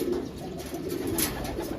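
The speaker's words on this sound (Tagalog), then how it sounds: "may ibon pa sa taas" A racing pigeon coos softly and repeatedly, low and muffled, against quiet background noise.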